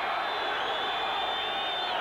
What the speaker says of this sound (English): And once again there, the crowd responding